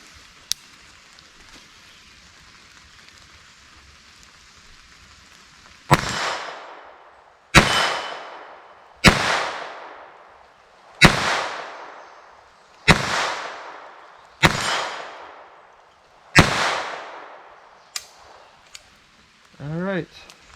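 New handcannon firing repeated gunshots, about seven loud, sharp blasts spaced roughly every one to two seconds, each with a decaying echo, followed by fainter clicks and a brief voice.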